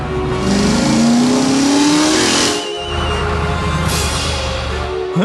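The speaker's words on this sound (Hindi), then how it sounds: "अपनी जान बचाने के लिए पीली टो ट्रक घने और डरावने जंगल के बीच से अपनी पूरी रफ्तार से भागने को मजबूर है।" Cartoon yellow tow truck racing through a dense forest, its engine revving loudly with a rising whine, a brief break, then another surge of revving and rushing noise.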